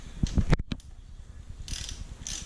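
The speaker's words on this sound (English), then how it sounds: "we're going to pull the drain plug on the primary fluid, just a 5/8 socket." A ratchet with a 5/8 socket clicks rapidly as it loosens the primary drain plug on a 2014 Harley-Davidson Dyna, a close burst of fast clicking followed by lighter ticking turns.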